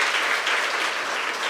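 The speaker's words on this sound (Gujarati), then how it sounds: "આપણે તાળીઓથી લાભુભાઈને વધાવીએ" An audience at a school foundation-day celebration claps in a dense, even burst of applause, fairly close and sustained for a moment without a pause.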